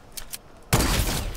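A sniper rifle shot fires in a video game as one sudden loud blast with a sustained rumbling tail, preceded by a couple of faint short ticks.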